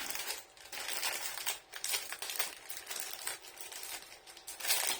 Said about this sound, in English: I'm determined to open this without the scissors